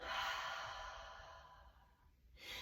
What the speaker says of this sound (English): exhale through mouth